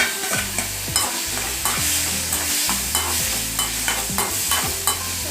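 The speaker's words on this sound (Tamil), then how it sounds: "இந்த மாதிரி நல்லா வதக்கிட்டு ஒரு தக்காளி எடுத்து வச்சுக்கோங்க." Goat liver with tomato sautés in a hot pan, giving a steady sizzle close by while a spatula scrapes and stirs in regular strokes, with periodic clacks against the pan and no voices.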